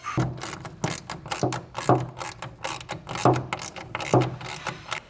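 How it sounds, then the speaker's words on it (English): A ratchet wrench tightens the tensioner and underside bolt on an Access Lorado soft roll-up tonneau cover on a 2022 truck, giving close, rhythmic bursts of clicking strokes, about eight in steady succession with no talk. "now we're gonna go to both sides and tighten up our tensioner and the other bolt on the underside"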